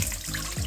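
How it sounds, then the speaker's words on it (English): Warm water is poured into a bowl for yeast dough, making a steady, close splashing stream for under a second. "And then we need a cup of nice warm water."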